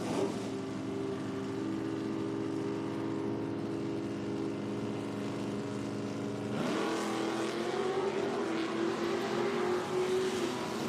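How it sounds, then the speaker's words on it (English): Drag racing cars at an outlaw nitro series meet roar steadily down the track, a loud sustained engine drone from a distance that shifts and rises partway through. "Down there, Roy's going to get there first, 7:21, 92 miles an hour"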